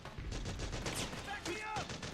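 Soldiers fire guns in Metal Gear Solid 4: a quiet, dense stream of rapid shots and bursts mixed with whistling, whiny tones, with faint shouting underneath.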